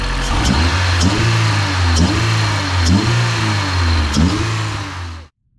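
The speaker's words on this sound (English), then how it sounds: "Something about a fresh motor starting up or a fresh build starting up." A freshly built Honda CRX Si engine runs close by with a loud, rough idle and a repeating rise-and-fall in revs about once a second, then cuts off sharply at the end.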